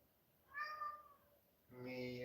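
A human voice imitates a cat's meow: two drawn-out, wavering meow-like calls, close and clear, separated by a short pause.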